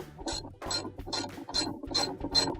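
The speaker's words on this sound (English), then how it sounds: "Then we'll take our socket with the ratchet. We'll tighten that back up." A socket ratchet clicks in six even, close strokes while a washer tub support is tightened, each stroke a quick burst of pawl ticks.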